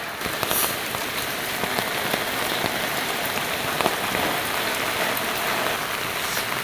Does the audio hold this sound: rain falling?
yes